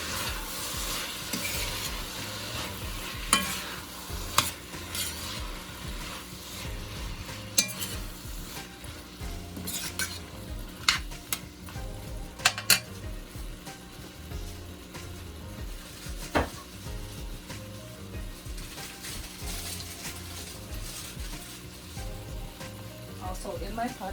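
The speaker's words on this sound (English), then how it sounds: "mix up all that curry goodness on it" Pumpkin and codfish curry being stirred in a pot, a steady scraping swirl with soft sizzling and a few sharp clinks of the spoon against the pot, with background music throughout.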